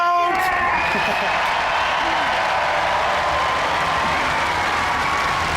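A crowd at a Robot Wars award presentation cheers and applauds in a steady, loud wash of clapping and shouting that fills the whole stretch, with a few whistles near the start.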